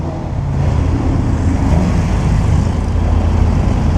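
Classic BMW cars rolling past at the Mille Miglia road race, a steady loud engine rumble and road noise that swells in and holds close throughout with no talk.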